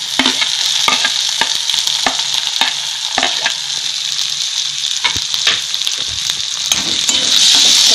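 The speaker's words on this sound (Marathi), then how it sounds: "आता आपण कांदा टाकून घेऊया। टोमॅटो टाकून घेऊया।" Onion and tomato fry in a pan for a Maharashtrian masoor dal and onion dish, giving a steady loud sizzle with frequent scraping stir strokes throughout and no talking.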